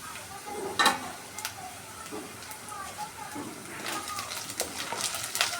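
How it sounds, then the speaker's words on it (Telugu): Ingredients for upma fry in a pan, giving a soft crackling sizzle with scattered sharp pops and stirring clicks that grow busier toward the end, while a voice talks over the cooking. "ఒకసారి రెండు నిమిషాలు బాగా ఫ్రై అయ్యాక ఇప్పుడు చూద్దామండి"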